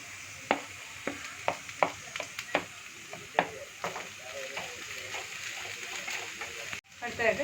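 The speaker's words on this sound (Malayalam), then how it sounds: "ഇനി ഇതിലേക്ക് നമുക്ക് ചതച്ച് വെച്ച ഇഞ്ചി ഇടാം." Crushed ginger goes into two onions sizzling in a pan for a Kuttanad-style duck pepper roast, a soft steady sizzle broken by repeated clicking spatula strokes against the pan.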